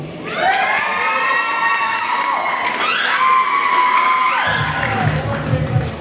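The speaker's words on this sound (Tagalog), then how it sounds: "bakit hindi po natin sabay-sabay palakpakan at hiyawan Miss Angel Locsin" A crowd at a Binibining Bahaghari pageant screams, whoops and cheers for Miss Angel Locsin, with high shrieks and shouts rising in waves alongside light clapping, and a low rhythmic beat entering near the end.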